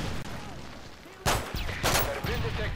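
Gunfire in the video game Call of Duty: Modern Warfare 3, two or three loud sharp bursts over a quieter background of game sounds, with faint talk in between.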